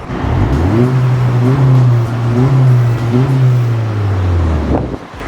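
A Honda Civic FE engine with an aftermarket exhaust revs up and holds a deep, throaty drone with a few throttle blips, loud and close, then drops away at the end.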